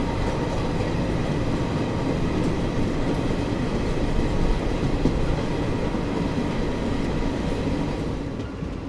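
The Azad Hind Express of Indian Railways travels between Bilaspur and Nagpur, its wheels and carriages producing a loud, steady rolling rumble with faint rhythmic clatter, heard from on board without any talking.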